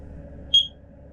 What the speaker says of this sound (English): there's a beep to say it's been found